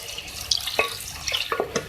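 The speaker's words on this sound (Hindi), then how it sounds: "अब मैं इसमें गलाने के लिए इसको 3 गिलास पानी ऐड कर रही हूँ" Water from a glass pours into a pot of roasted beef for a beef and lauki (bottle gourd) gosht, sounding as soft splashing and trickling with a few brief drips and clinks, fairly quiet and close.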